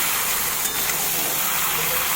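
Chicken and onions fry together in oil, giving a loud, dense hiss with light crackling that stays even and close throughout, no talking over it.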